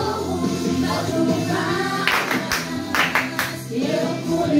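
Rhythmic hand clapping joins a children's worship song at a church service, a cluster of sharp claps in the middle of the bar over steady singing and music.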